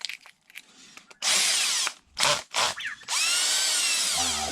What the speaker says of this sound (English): I'm going to stick it into my drills chuck